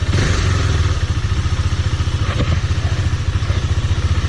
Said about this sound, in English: To be frank enough, this is the first ride on this bike. I hope everything goes fine, and let's hit the road.